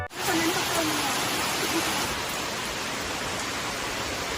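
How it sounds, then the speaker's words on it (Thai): Sudden rain pouring down in a national park forest area in Songkhla, Thailand, a steady dense hiss of falling water that fills the whole stretch, close and continuous with no voices. "อยู่ๆฝนก็ตก"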